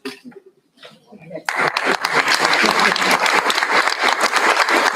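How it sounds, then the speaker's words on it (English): An audience at a school board meeting applauds students of the month. A moment of quiet talk breaks into dense, sustained clapping that stays loud and even to the end, with faint laughter underneath. "let's have another round of applause for all of our students of the month"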